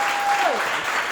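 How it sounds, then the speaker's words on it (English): Brief burst of audience applause after a speaker invites a round of applause for a guest at a talk on branding, steady dense clapping filling the whole moment with a faint tone gliding underneath. "So let's give Ntwaki a resounding round of applause."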